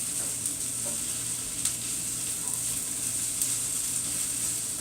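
Green beans sauté in a pan with onion, garlic, butter and oil, giving a steady, close sizzle with faint stirring scrapes throughout and no voices.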